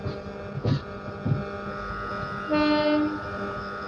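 The Shatabdi Express, train 12025 from Pune to Secunderabad, rumbles with a steady low drone and hum, a couple of soft knocks, and a sustained horn-like tone swelling near the end.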